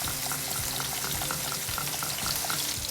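Parmesan garlic scampi sauce bubbles at a steady simmer, with a soft, even hiss and faint gurgling close by.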